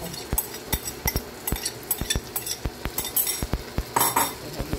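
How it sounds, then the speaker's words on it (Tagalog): Corned beef sautéed in a pan, a brisk run of sharp metallic clinks and scrapes from a utensil striking the pan in quick irregular rhythm over a faint sizzle, close and fairly loud; no voices. "Lagay na po natin ang ating corned beef. Igisa po natin."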